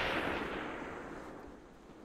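A mortar round exploding in Project Reality's winter bushfighting: a single distant, muffled blast whose broad rumble trails off and fades over about two seconds, heard alone without talk.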